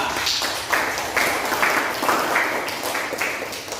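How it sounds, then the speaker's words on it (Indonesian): A class audience applauds a student group after its presentation, steady clapping from several people at moderate distance lasting a few seconds. "beri tepuk tangan kepada kelompok 2"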